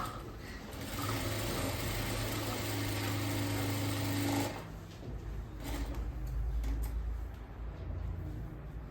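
A sewing machine runs a second line of stitching along a blouse hook strip, its motor whirring steadily for about four seconds before settling into a lighter, uneven run.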